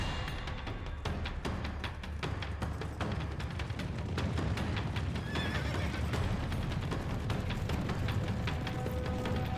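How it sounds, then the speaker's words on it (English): Wild Mustang horses gallop in a dense, continuous drumming of hooves with loud neighs and whinnies rising over the herd, heard without any talking. "over 1 million Mustangs run wild"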